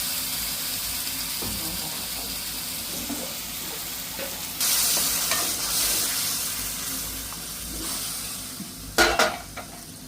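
Onion, green chilli and ground masala paste frying in a pan at home, a soft steady sizzle with occasional stirring scrapes, a louder burst midway and a couple of clinking utensil knocks near the end.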